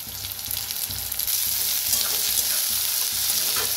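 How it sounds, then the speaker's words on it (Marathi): Onion, curry leaves and spring onion frying in hot oil in a pan, a dense continuous sizzle with soft scraping stirs, close and loud with no talking. "छान असं भाजून घेऊया दोन्ही बी, कांदा कांद्याची पात"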